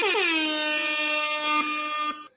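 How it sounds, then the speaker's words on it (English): A loud, harsh electronic buzzer blares steadily for about two seconds, rich and nasal, then cuts off abruptly. "That's the buzzer for a hot take."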